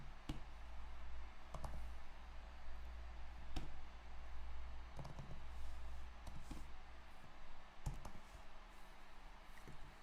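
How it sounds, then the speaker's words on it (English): Someone types a short line of text on a computer keyboard, producing a few scattered, faint key clicks and short bursts of taps over a low, steady hum, with no voices. "I'm going to type that in there"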